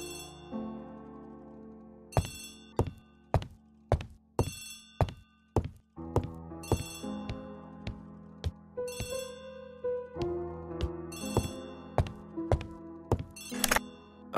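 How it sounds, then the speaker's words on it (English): An old telephone bell rings repeatedly in Agatha Christie: The ABC Murders, sharp metallic bursts in an irregular series over a quiet musical background, close and clear. "Poirot, the telephone."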